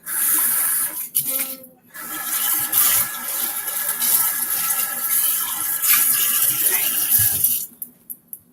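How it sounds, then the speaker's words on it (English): A dish is washed by hand under a running kitchen tap, with a steady hiss of water broken by brief splashes and clinks before the flow stops. "This just got water in it. Just gonna wash that by hand."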